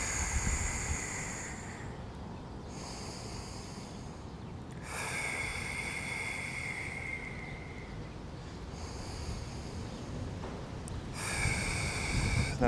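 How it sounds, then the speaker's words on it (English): Slow, deep belly breaths taken during an outdoor golf warm-up stretch, each long airy exhale clearly audible up close, with a few rhythmic cycles and faint outdoor ambience between them. "Inhale, long exhale. It's a nice belly breath."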